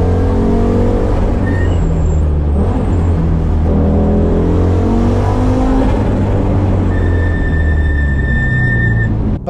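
An Audi RS e-tron GT electric sports car drives steadily with a smooth, loud whirring drone and road noise, with a faint high whine rising over it.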